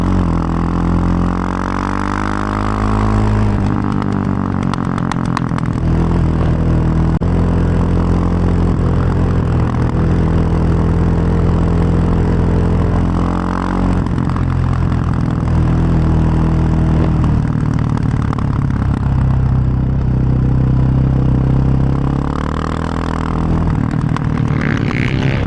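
A Yamaha Raptor 700R quad's single engine idles and revs repeatedly while riding through a city at sunset, loud and close with rising and falling throttle bursts and no talk.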